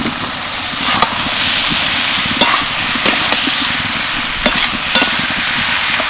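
Fried potatoes stirred into mushrooms and spices sizzling loudly in a pan, a steady hiss broken by sharp spatula knocks against the metal every second or so.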